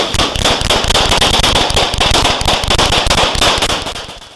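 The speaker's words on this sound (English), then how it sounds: "he pulled a weapon and fired multiple shots at the officers. Gunfire erupted." Gunfire at police officers during a traffic stop, a dense, continuous rapid volley of sharp cracks, loud and close, lasting several seconds before tapering off, no talk.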